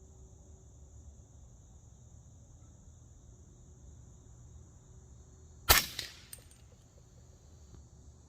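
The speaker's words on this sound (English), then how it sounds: "Let's take a 5-shot group, 220 grain Hornady ELD-X." A single sharp shot from a 300 Blackout pistol firing 220-grain Hornady ELD-X reloads cracks out of a quiet outdoor background with faint insect hiss, followed by a brief echo.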